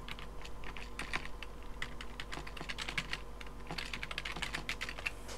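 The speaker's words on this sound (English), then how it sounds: "So you're going to want to type in your website address." Computer keyboard typing a website address, a quick irregular run of light key clicks at close range, faint and steady against a low background hum.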